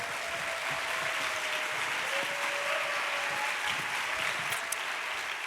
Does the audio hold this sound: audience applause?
yes